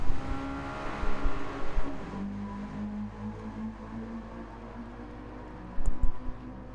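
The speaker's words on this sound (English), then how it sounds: "Really revving the car." Race car engines rev and whine in a sim racing sportscar championship at the Red Bull Ring, a sustained tonal engine note rising and shifting with sharp bumps and brief bursts near the end.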